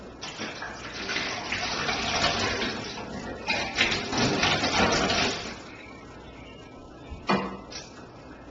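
Water pours and splashes out of a soda bottle in a continuous gushing stream for several seconds, then eases to a quieter trickle with a brief final splash.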